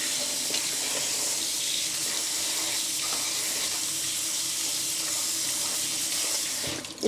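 Potatoes rinsed under a running kitchen tap, a steady, even rush of water that stays close and continuous before a brief clatter at the end.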